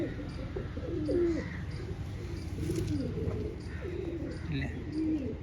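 Soft, repeated pigeon coos rise and fall against a low background murmur, several calls spread across the clip at a moderate distance.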